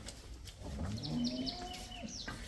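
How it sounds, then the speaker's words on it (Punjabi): A single low, drawn-out moo from a cow, fairly faint and somewhat distant, over light background noise. "ਦੋ ਗਾਵਾਂ ਤੇ ਚਾਰ ਤੁਹਾਨੂੰ ਮੱਝਾਂ ਦਿਖਾਉਣੀਆਂ"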